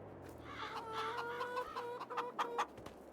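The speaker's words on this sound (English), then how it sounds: "I don't even know how old my chickens are." Month-old chickens on a farm cluck and murmur close by, a steady run of soft clucks and short calls with a couple of sharper squawks near the end, no speech.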